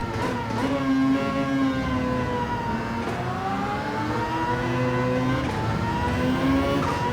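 A race car engine in Gran Turismo 7, the Mazda LM55 GR1 prototype at Daytona, revs steadily and loudly with upshifts every couple of seconds, pitch climbing then dropping as gears are short shifted.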